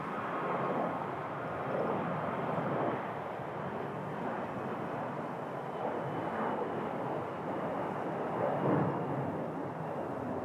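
An Air Canada airliner departs Toronto Pearson airport, a broad, steady jet engine roar that rumbles continuously at a distance, fairly quiet and even throughout, with no voices.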